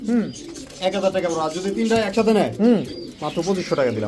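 A single male black-tailed pigeon coos in repeated throaty, rolling calls, close and fairly loud, mixed in with someone talking.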